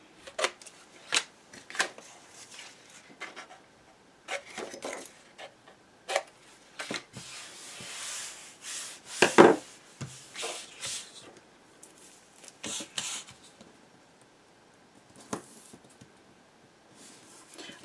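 Paper being cut at an angle with a taper tool along a score line to remove a corner, a series of faint, close, crisp snips and scratchy slices in irregular bursts with quiet gaps between.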